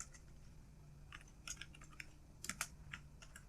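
A computer keyboard is typed on in a short, soft flurry of close, uneven keystrokes over a faint background hum, with no talk.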